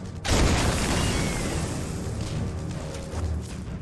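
Rigged naval shells detonate together in a wartime demolition. A sudden loud blast rolls into a long, heavy rumbling roar that slowly fades.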